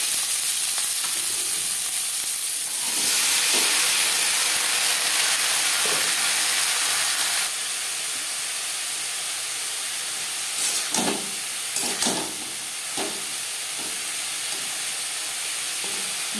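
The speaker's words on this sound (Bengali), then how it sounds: "15-20 সেকেন্ড জিরে ভেজে নেওয়ার পর দিয়ে দেবো কাঁকরোল।" Teasel gourd slices drop into hot oil with fried cumin and hiss in a steady, loud sizzle. A few clattering bumps follow as the pieces settle and get moved in the pan. No voices are heard.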